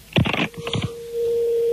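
A voice speaks briefly on a telephone line during a radio prank call, then a steady, unbroken ringing tone sounds alone and keeps going.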